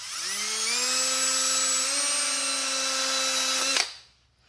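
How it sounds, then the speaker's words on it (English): A 3M Scotch-Brite wheel on a power tool spins up with a rising whine and scrubs steadily against metal on a car body, holding a high tonal hum for nearly four seconds before cutting off. "So I got my 3M Scotch-Brite wheel."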